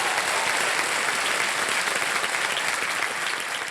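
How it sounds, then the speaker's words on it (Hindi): A studio audience on the KBC quiz show breaks into loud, sustained applause, a dense wash of clapping that holds steady throughout. "एक बार फिर जोरदार तालियां"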